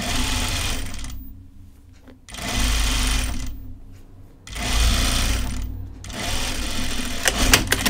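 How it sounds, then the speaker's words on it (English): A home sewing machine stitches fabric for a tunic in bursts, a rapid mechanical whir that starts and stops several times with short quiet gaps between runs, close and steady, no talking. "I'm really trying to make sure all my fabric is smooth underneath the needle."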